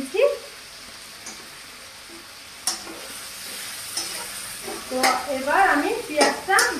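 Chopped onions fry in a pan for a Bengali-style prawn curry, giving an even sizzle with occasional sharp clinks of a utensil, while a voice speaks over the later part.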